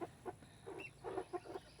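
Pet chickens on a homestead cluck softly in a few short, scattered bursts, fairly faint and with no voices.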